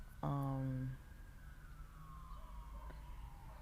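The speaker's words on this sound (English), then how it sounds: "set of sirens" Emergency vehicle sirens sound far off, a faint wailing tone slowly falling in pitch under a low background rumble, after a brief harmonic horn-like blast.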